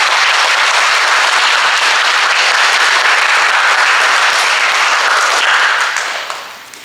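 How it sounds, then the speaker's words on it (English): An audience applauds students for cheerful, helpful work in the school garden, a dense steady wash of clapping that holds evenly for about six seconds and then tapers off near the end. "Can we give these students a round of applause?"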